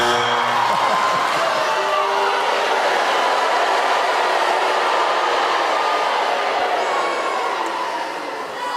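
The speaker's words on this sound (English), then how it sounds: "Who's under 30 here, then, by way of a cheer?" Live comedy audience giving a loud, sustained crowd cheer that holds steady for several seconds and eases off slightly at the end.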